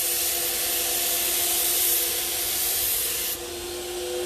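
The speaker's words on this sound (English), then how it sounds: "he kept a continuous spray until the other side of the dresser" A paint sprayer hisses continuously spraying metallic paint onto a dresser, a steady bright spray with a faint mechanical hum beneath, dropping slightly in level near the end.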